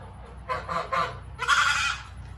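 Goose honks from a farm goose, three quick nasal calls followed by a longer, harsher honk, close and fairly loud with a quiet background.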